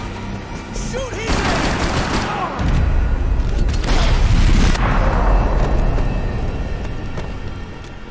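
Gunfire in the video game Max Payne 3, a dense fusillade of rapid automatic shots with heavy booms and debris rumbling, loud and continuous, swelling twice in the middle, with no voices heard.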